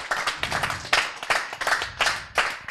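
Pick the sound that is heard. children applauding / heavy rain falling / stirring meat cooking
children applauding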